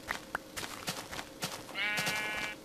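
Sheep bleating in the Minecraft game, a wavering harmonic bleat near the end after a couple of short clicks, moderately loud with no talking.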